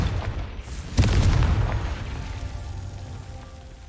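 A Confringo spell blast in the Hogwarts Legacy video game lands as a sudden loud boom, then a long rumbling tail that slowly fades over a few seconds.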